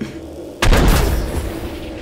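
A single heavy grenade blast in the System Shock video game goes off abruptly after a quiet moment, then trails into a rumbling decay.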